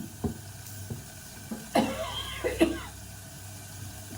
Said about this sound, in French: Pourquoi tu tousses?